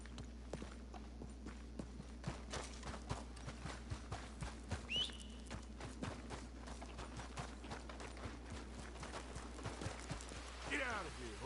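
Horse hooves clip-clop steadily in Red Dead Redemption 2, a regular walking rhythm of close, moderate knocks running throughout under a low ambient hum, with a brief whistle partway through and someone talking.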